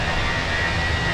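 Fenix A321 airliner jet engines in Microsoft Flight Simulator give a steady, loud broadband roar with a faint whine, unchanging throughout.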